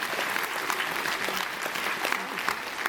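Sustained applause from a large comic con audience of about 1,500 people fills the hall, dense and steady throughout with no clear voices.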